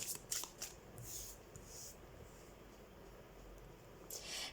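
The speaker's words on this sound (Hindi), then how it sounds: "तो सबसे पहले हम कार्ड शफल कर लेते हैं।" Tarot cards shuffled by hand, a quiet close riffle and rustle in short bursts at the start and end, with softer sliding in between.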